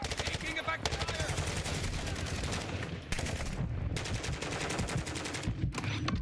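Rapid automatic gunfire in the video game Black Ops 6, loud dense bursts of shots with short pauses between them, close by, with a voice briefly heard among the firing.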